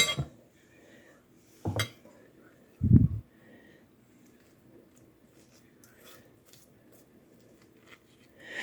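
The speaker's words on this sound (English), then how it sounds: "And then we just want to scoop out." A spoon scoops the flesh out of a cooked baked potato, leaving the skins for twice-baked potatoes, making a few short, soft clinks and knocks spread apart with quiet stretches between them.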